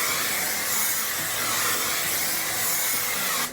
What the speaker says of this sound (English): But first I'm gonna spray it all over with some hairspray.